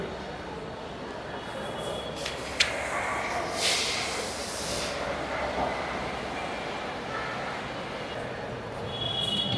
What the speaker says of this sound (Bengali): রাজশাহী স্টেশন থেকে আমরা এখন চলে যাব প্ল্যাটফর্মের ভিতরে, ওইখানে ট্রেন অপেক্ষা করছে।